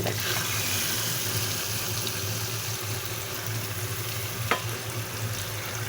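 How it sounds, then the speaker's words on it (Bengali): Onions and green chilies fry in a pan with a continuous, fairly loud sizzling hiss and a low steady hum beneath, one sharp click near the end, no voices. "পেঁয়াজ মরিচ ডালা শেষ"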